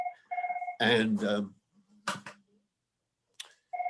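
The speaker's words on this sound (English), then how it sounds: "phone's going off, sorry." A phone sounds with repeated electronic tone pulses, a steady beeping pattern that stops, then starts again at the end, with a speaker's voice breaking in between.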